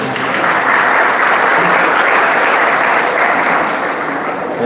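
Dense, steady clapping from an audience in a hall at a college yoga and health event, loud and continuous from start to finish with no voices over it.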